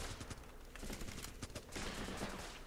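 Dense gunfire rattles in the war game Running With Rifles. Overlapping rapid shots and bursts form a continuous, busy barrage at moderate loudness.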